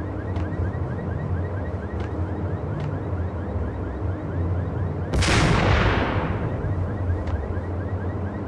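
Max Payne gunfire: one loud, sharp blast booms about two-thirds of the way in, set against a steady game background hum with faint ticks recurring at regular intervals.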